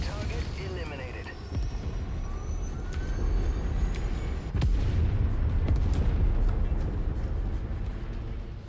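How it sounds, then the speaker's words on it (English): A destroyed battle mech explodes in the MechWarrior 5: Mercenaries video game, a sharp blast followed by sustained rumbling booms and debris over continuous low-end noise, with talk throughout. "My last kill is about to explode."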